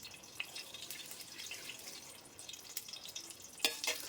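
Whole spices (bay leaves, cloves, cardamom and star anise) fry in hot fat, giving off faint, scattered crackles and light sizzling, with a brief louder spatter near the end.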